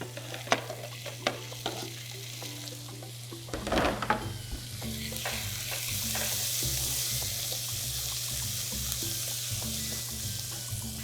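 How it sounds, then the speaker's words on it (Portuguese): Tomatoes and vegetables sautéing in butter for a shrimp fricassée sizzle steadily in the pan, with a few sharp clinks and scrapes of a utensil stirring through the mix, close and continuous without talk. "Tomate eu vou colocar 2 para deixar esse nosso refogado bem úmido e gostoso."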